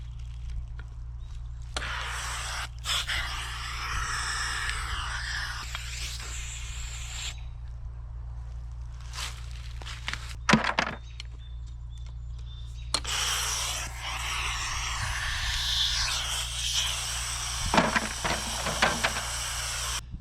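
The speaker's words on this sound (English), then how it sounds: "I'll pull it, I'll wait till it sucks air, you can hear air so it's clear" Maple sap tubing line pulled free in a sugarbush hisses as it sucks air, two long bursts of airy rushing separated by a quieter gap, with a steady low hum underneath and occasional small knocks.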